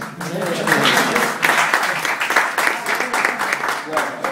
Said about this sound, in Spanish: Aplauso para mí, hombre.